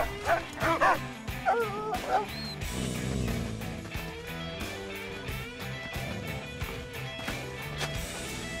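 A dog in the post-apocalyptic video game Mad Max barks and yips repeatedly in quick bursts at the start, then whimpers over engine rumble and game music, with someone talking throughout.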